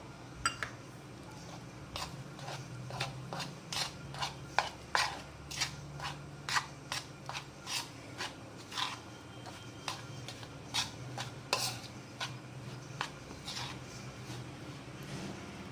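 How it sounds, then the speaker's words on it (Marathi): Egg batter is whisked in a bowl, with a steady run of quick clinking taps of the utensil against the bowl's side, moderately close and fairly even in rhythm, over a low background hum. "छान असं फेटून घ्यायचं आणि यामध्ये टाकायचं आणि याने मिक्स करायचं।"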